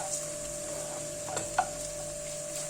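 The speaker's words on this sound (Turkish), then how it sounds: "Salçayı da biraz kavuruyorum." Tomato paste sautéing in a pan for a purslane dish, a faint low sizzle under a steady hum with a couple of soft utensil clicks.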